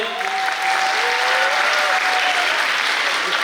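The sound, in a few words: audience applause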